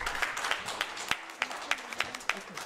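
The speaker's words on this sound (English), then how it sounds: "You can give her another round of applause" Conference audience clapping after a talk, a sparse, moderately close run of claps with a rough, uneven rhythm, fairly quiet.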